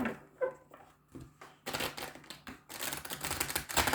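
Oracle cards are shuffled close up: a few soft riffles at first, then longer bursts of rapid, crisp clicking and flicking.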